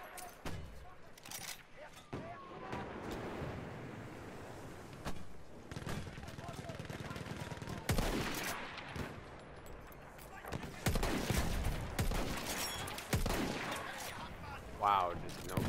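Battlefield 1 match on Nivelle Nights with Gewehr rifle shots and distant battlefield gunfire and explosions scattered throughout, a player talking over the constant combat noise.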